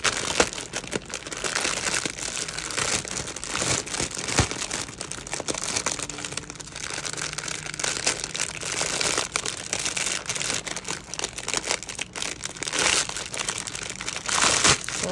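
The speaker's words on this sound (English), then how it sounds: "For the crinkling" A plastic bag crinkles continuously as it is opened and handled up close, a loud, dense rustling with sharp crackles and no pauses.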